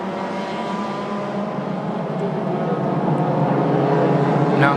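Race cars pass by at the Sepang circuit during the Sepang 1000km endurance race, making a continuous, loud engine roar that grows slightly over a few seconds.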